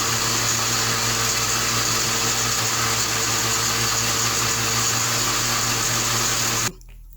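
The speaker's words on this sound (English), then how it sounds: "Or you can use, if your blender says whip, just whip it." A kitchen blender whipping a mixture while making BBQ ribs runs steadily with a loud, constant motor whine and rough churning, then cuts off abruptly near the end, leaving quiet room tone.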